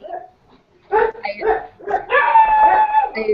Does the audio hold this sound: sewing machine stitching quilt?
no